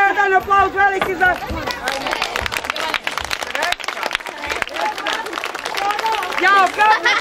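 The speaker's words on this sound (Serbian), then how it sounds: "Ajmo jedan aplauz veliki za..." An audience of children and adults at a children's pirate-themed show in Veliko Gradište claps loudly, with voices calling out before and after the burst of applause.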